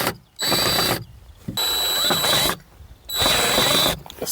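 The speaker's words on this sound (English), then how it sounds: "I'm going to like drill that into there to try and keep it on" A power drill drives a screw through an L hinge on a wooden planter, running in three sustained whirring bursts separated by short pauses, loud and close with no talking.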